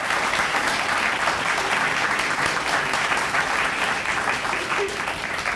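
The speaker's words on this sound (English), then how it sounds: "can we give them a round of applause?" A large audience applauds steadily for a family being honored at a ceremony, dense continuous clapping that holds at full strength throughout without pause or voices on top.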